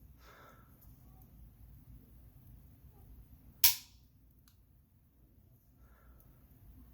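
A Geissele or TriggerTech two-stage AR-15 trigger gives one sharp, crisp dry-fire click, close up in a quiet room.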